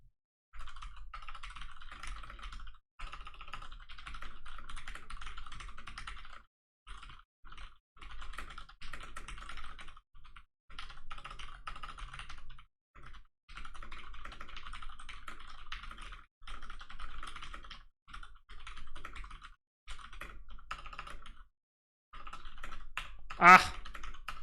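Steady rapid typing on a computer keyboard during a TypeRacer race, clicking bursts running almost continuously with short pauses, fairly close and clear, ending in a brief sharp knock.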